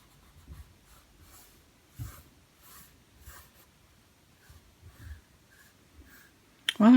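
A very soft pencil scratches zigzags on paper in short, soft strokes at an irregular rhythm, close and quiet, ending with a brief louder knock.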